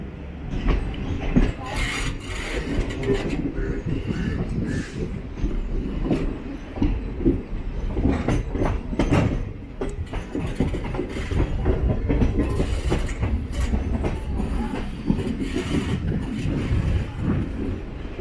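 The 12084 Jan Shatabdi Express runs along the main line from Coimbatore to Mayiladuthurai with continuous rumbling and rhythmic clicking of wheels over rail joints, heard from on board, with occasional faint squeals.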